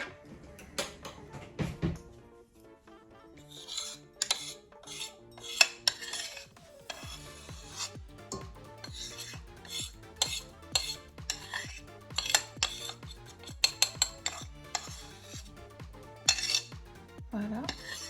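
A small spoon scrapes and taps against a dish, making irregular metallic clicks and scrapes, some sharp and bright, in a quiet kitchen with no talking.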